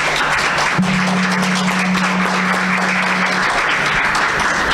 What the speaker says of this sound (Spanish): Recibamos con un aplauso a nuestras expositoras.